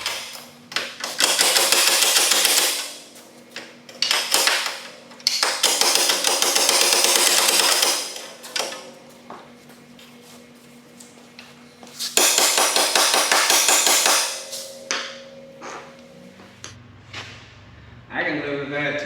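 A large punch and a hammer pound metal on a wrecked custom ATV. The blows land close and loud in repeated bursts, with pauses between them.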